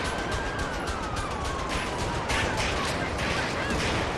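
Rapid gunfire during a police shootout in GTA 5 with the LSPDFR mod, a dense near-continuous crackle of shots over engine and siren noise.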